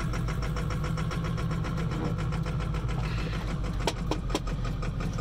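Truck engine idling rough and barely running from low fuel pressure, stopped at the top of a hill in the Arctic cold: a steady, uneven low rumble throughout with a few brief sharp clicks near the end, close by, no talk.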